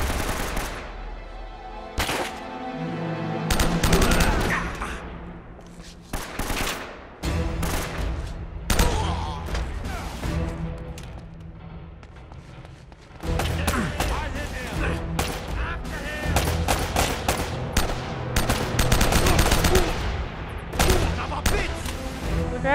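Gunfire from weapons in the action video game Uncharted, including a sniper rifle, with sustained loud bursts and rapid shots broken by a brief lull, under game sound and some speech.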